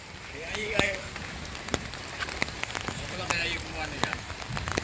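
Rain falling on a surface, a constant soft patter punctuated by sharp individual drop hits and crackles, with faint voices in the background.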